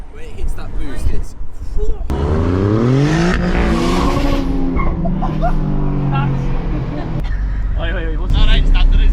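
A 700 bhp turbocharged Honda Civic's engine surges hard under boost, pitch rising steadily through a strong acceleration, while a dog barks and voices chatter around it.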